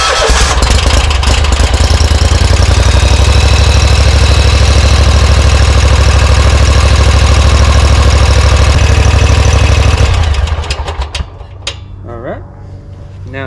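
Kawasaki FX1000 engine on a Bad Boy Rebel mower running loud and close with a deep, steady rumbling idle that continues for about ten seconds before dropping in level as it winds down.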